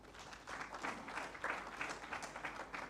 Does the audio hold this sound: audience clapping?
yes